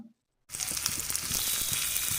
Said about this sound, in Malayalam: ഇനി നമുക്ക് കടുവും കൂടെ തളിച്ച് ചേർക്കാം